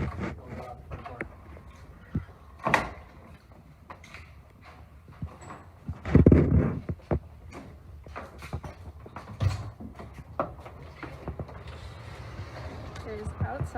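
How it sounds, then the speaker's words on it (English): A house's front door on the Farallon Islands creaks and clunks open in a short burst midway, with quieter mechanical knocks and faint voices around it. "We'll go out the front door."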